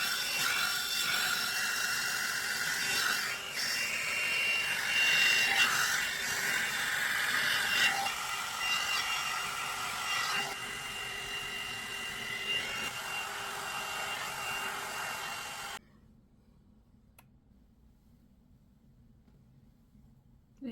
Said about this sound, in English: make sure the hair is in fact wet because this is in fact a blow dryer